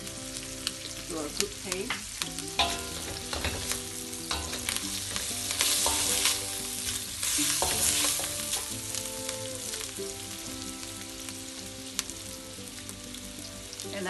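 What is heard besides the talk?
shallots frying in a pan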